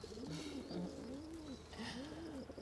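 Pigeons coo softly in a village, a series of low, rounded, rolling coos repeating at a steady pace over a quiet outdoor hum, with no voices.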